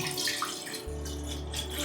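Water pours steadily into a pot for steaming lemon-flavoured dumplings, a continuous close splashing rush that settles into a lower, fuller tone partway through as the level rises.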